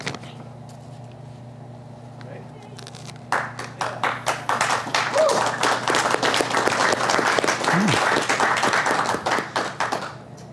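Audience applause at a meeting of the Adventurers Club of Los Angeles: a low room hum for about three seconds, then a dense burst of clapping that swells and holds steadily until it tapers off near the end.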